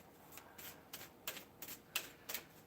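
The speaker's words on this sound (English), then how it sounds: "Just want to give everything a nice shuffle." A deck of oracle cards is shuffled close by in a series of quick papery riffling bursts, about eight short flicks in an uneven rhythm.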